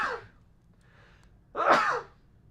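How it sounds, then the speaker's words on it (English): A single sharp sneeze bursts out after a short breathy intake, loud and close, with quiet moments around it. "I'm going to sneeze,"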